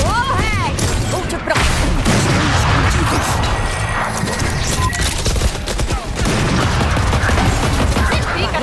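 Constant loud gunfire and explosions in a competitive match of the video game Valorant, with dense rapid shots, booms and impacts, while players talk over the action throughout.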